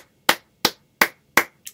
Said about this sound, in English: can we just clap our hands for the Lord Jesus?